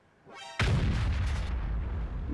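A tank cannon fires in World of Tanks, a single loud close boom with a short whining lead-in and a long rumbling tail.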